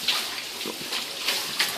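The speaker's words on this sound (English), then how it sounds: "Water's currently running." Floodwater runs steadily across a hotel basement floor about one to two inches deep, a continuous close rushing hiss with small surges.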